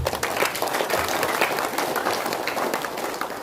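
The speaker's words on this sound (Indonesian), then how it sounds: "Kami mengajak kita semua untuk berikan aplaus sekali lagi" A crowd at a formal ceremony applauds in a dense burst of many hands clapping at once, fairly close and lively, keeping a steady level for the whole stretch.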